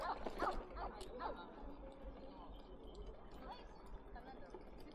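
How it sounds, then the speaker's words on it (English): Jack Russell terriers bark and yip several times in quick bursts near the start, then fade under steady outdoor background noise and voices in a crowded Tokyo park during cherry blossom season. "Oh, more Jack Russells."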